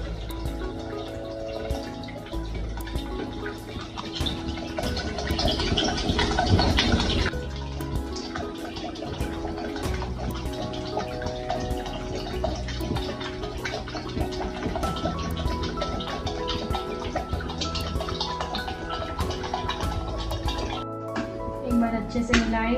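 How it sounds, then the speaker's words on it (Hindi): About three cups of water pour into a cooking pot of spinach pulao in a home kitchen, a continuous splashing, gurgling stream under a voice, swelling briefly partway through. "अब मैं इसमें पानी डालूंगी"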